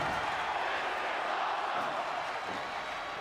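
A wrestling crowd at a main event cheers and roars in a dense, continuous wash of noise that holds steady and fairly distant throughout.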